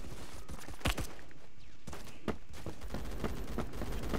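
Sniper gunfire in a video game, sharp separate shots cracking at irregular intervals over a constant dense background of game noise, moderately loud.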